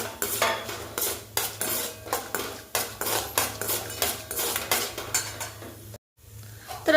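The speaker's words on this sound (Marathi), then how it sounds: "तेल व्यवस्थित गरम झालंय तर त्याच्यात मी डाळ टाकते आणि खूप करपवायची नाही व्यवस्थित सोनेरी होईपर्यंत भाजून घ्यायची" Lentils roasting in hot oil while a spoon scrapes and clacks rhythmically against the pan for curry leaf chutney, a close, loud, steady series of metallic stirring strokes with a brief pause near the end.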